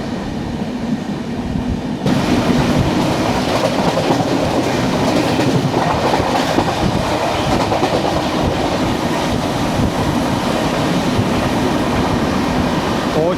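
The 12258 Garib Rath Express, heard from on board, runs through Oachira station with a loud, steady rumble and rhythmic clickety-clack of wheels over rail joints, growing louder after the first couple of seconds.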